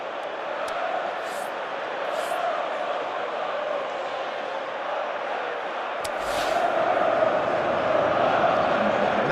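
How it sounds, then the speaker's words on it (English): A football video game crowd cheers and roars steadily in the stadium, a broad continuous swell that grows louder toward the end, with a few sharp whistles or shouts rising above it. "at least the crowd are appreciative of his efforts"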